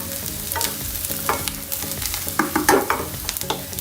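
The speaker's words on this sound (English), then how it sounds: "Just make it nicely sauteed." Spaghetti sizzles and is stirred in a hot pan, a steady frying hiss broken by repeated scraping and clattering stirs, close and fairly loud with no voices.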